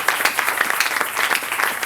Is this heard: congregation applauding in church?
yes